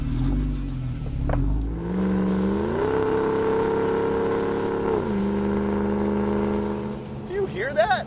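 A Jeep driving on the road, its engine holding a steady drone that shifts pitch with changes in speed, with a brief rise and fall midway, under occasional voices near the end.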